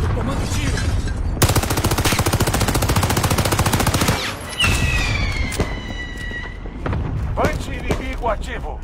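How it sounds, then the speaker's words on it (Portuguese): Rapid automatic gunfire rattles in long sustained bursts in a Call of Duty Warzone match, followed by scattered single shots and thuds, with a voice speaking over the loud, close game audio. "Tomando tiro."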